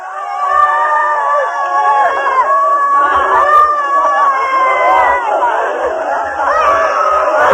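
Many people scream, wail and shout together during a dynamic meditation session, a dense continuous crowd of raw voices with no pauses, fairly loud and steady throughout.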